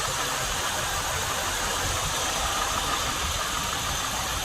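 A Lincoln Mark VIII's 4.6 liter dual overhead cam V8 idles with a steady, even hum and a faint mechanical patter, close and continuous throughout with no voices.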